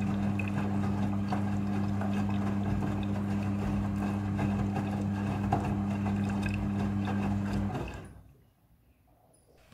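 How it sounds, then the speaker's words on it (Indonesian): Front-loading washing machine rinsing a thick blanket in water, a steady low mechanical hum with sloshing churn running continuously before cutting out abruptly near the end into near silence. "Proses pembilasan dengan air ini terjadi sebanyak 2 kali pembilasan air."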